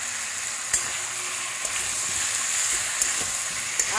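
Prawns frying in a pan give a continuous close sizzle, broken by a few sharp pops and spits spaced a second or so apart.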